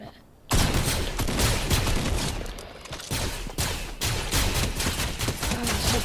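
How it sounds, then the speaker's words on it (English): Rapid bursts of gunfire from shooting in Fortnite, loud and continuous, sustained volleys with brief gaps, close to the player. "I'm so terrible at shooting."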